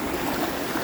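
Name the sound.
small local river flowing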